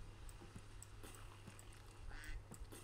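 Duck quacks from the Super Auto Pets video game, several short cartoonish calls scattered over a steady game background with no talking.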